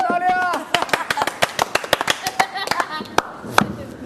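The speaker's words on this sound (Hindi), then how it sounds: "आपके लिए तालियां।" People clapping hands at a Tamasha Season 4 reality-show gathering, a ragged run of sharp claps close by after a short spoken line, with more talk mixed in between the claps.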